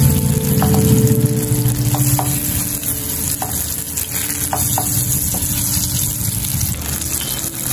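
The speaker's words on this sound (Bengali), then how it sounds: "খুব ভালো করে বেগুন ভাজা হয়ে গেছে" Eggplant slices fry in hot oil with a steady, loud, close sizzle and crackle running the full length, broken now and then by short scraping or stirring clicks; no one speaks.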